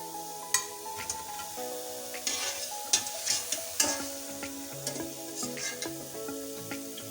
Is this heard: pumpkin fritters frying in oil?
yes